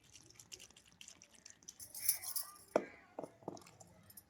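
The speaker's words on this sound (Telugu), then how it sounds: "ఇవి ములిగేలాగా నేను నీళ్ళు అయితే పోసుకుంటున్నాను మంచి నీళ్ళు" Drinking water is poured into a cooking pot over cut brinjal pieces for a Godavari-style brinjal and dried-fish dish, a quiet brief splash followed by a few clinks and drips.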